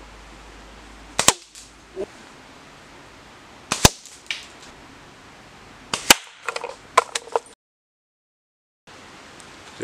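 Outdoors, a bushcraft slingshot fires at beer cans. Sharp, loud cracks come at irregular intervals, with a quick cluster of hits near the end and a stretch of silence just before it.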